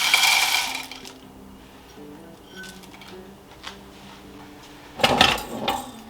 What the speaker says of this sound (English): And I'm adding in 2 cups of frozen mixed vegetables.